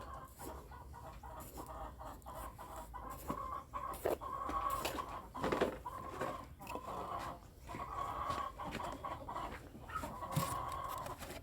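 Free-range village chickens being fed a herbal feed mix cluck softly and repeatedly at moderate distance, with scattered pecking and rustling sounds around them.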